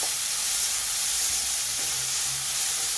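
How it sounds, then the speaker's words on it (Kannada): Garlic and finely chopped onion frying in a pan give a steady, close, continuous sizzling hiss that holds evenly throughout, with no talking. "ಈಗ ಈರುಳ್ಳಿನ ಸಹ ಚೆನ್ನಾಗಿ ನನಗೆ ಫ್ರೈ ಆಗಬೇಕು"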